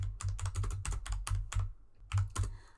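Close, crisp keystrokes on a computer keyboard while Python code is typed, an irregular run of about a dozen clicks with a short pause before the last few.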